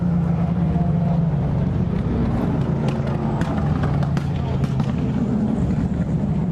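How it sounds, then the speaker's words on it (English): LMP1, LMP2 and Corvette race cars passing at a race, a loud, dense, continuous engine roar with a crowd-like wash, and someone talks over it throughout. "There go all the LMP1s, here's the LMP2s and the Corvettes."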